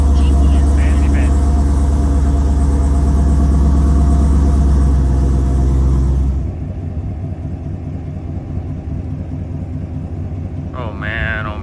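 Chevrolet Camaro engine running loud and close with a deep rumble, then dropping to a quieter steady idle partway through, with a voice briefly audible near the end.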